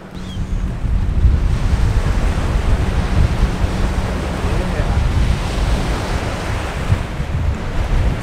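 Strong, steady wind roars across the microphone at a kiteboarding beach over constant surf and crashing waves, loud and unbroken throughout.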